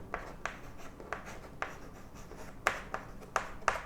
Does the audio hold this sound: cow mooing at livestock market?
no